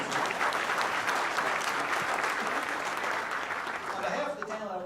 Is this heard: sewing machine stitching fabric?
no